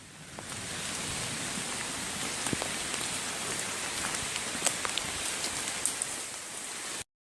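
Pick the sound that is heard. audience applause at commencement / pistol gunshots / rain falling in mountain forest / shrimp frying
rain falling in mountain forest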